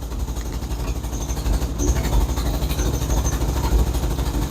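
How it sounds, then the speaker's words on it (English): A 1961 Nash AMC Metropolitan engine idling with an exhaust leak from a slipped-on tailpipe at the muffler, a steady low rumbling putter with faint ticking, close and continuous. "We got a pretty decent exhaust leak."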